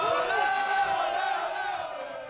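A large crowd of hockey fans in Montreal during a Stanley Cup finals run roars and whoops loudly together, a sustained cheering swell that slowly fades.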